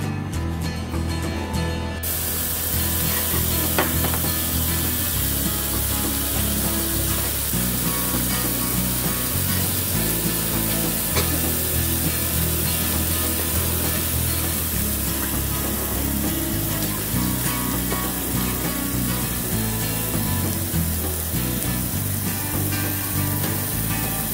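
Steady, loud sizzling and hissing of thin-sliced marbled beef brisket cooking on a hot grill at a Korean barbecue restaurant, continuous and close, with no talking.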